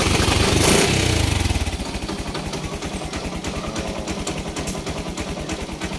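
A Yamaha YTX125 motorcycle engine, just fitted with a converted 4-pin CDI, catches with a brief loud burst and then settles into a steady, rhythmic close-up idle putter.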